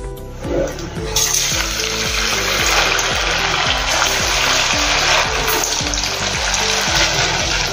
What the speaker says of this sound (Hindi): अभी जो हमने वड़े बनाए हैं वो इसमें तलेंगे वाले।